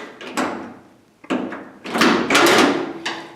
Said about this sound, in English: Let me open up the door